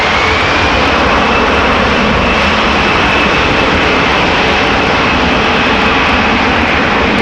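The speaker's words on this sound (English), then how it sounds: "Cathay Pacific flight 270, A350-1000 to Hong Kong" Cathay Pacific Airbus A350-1000 jet airliner at Amsterdam Schiphol, a loud continuous jet engine roar with a faint rising whine, steady and dense throughout, no talk.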